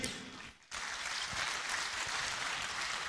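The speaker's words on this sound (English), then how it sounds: "a round of applause one more time for His Majesty the King" Audience applause at an awards ceremony in honour of the Asante King, a steady wash of many hands clapping at a distance, rising after a brief lull and holding evenly to the end.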